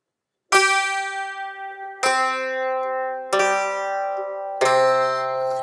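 Eight-string bouzouki with paired strings plucked with a plectrum: four separate bright, ringing notes struck one after another, each sustaining and slowly fading, close and clear with no talking.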